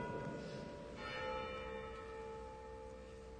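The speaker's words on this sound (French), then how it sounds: "On a toujours la cloche." A church bell rings with a sustained, humming tone in a quiet interior, its resonance holding steady and slowly fading with no talking over it.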